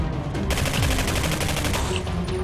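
Gunfire in the video game Singularity: a loud, close string of fast, evenly spaced shots after a brief quieter opening.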